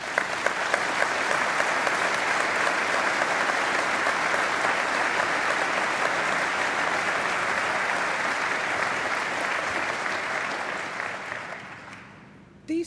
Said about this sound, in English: So please join me in thanking them with a very well-deserved round of applause.